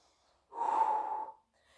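A single slow, audible breath during a side plank exercise, lasting under a second, a soft airy rush in a quiet room with no talking.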